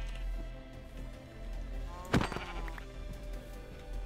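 A sheep in Minecraft lets out a single short bleat partway through, over a soft, steady hum of background game sound.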